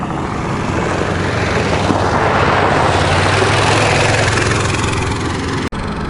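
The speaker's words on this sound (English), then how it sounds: "I dare say that'd be a mustering helicopter there." A loud, steady mustering helicopter engine whines and roars continuously, close by, with a broad rushing drone that barely changes throughout, in Central Australia.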